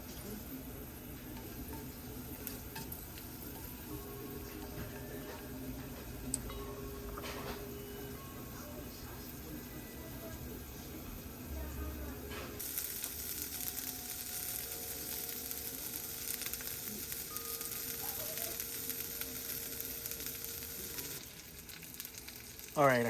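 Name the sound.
onions sauteing in a pan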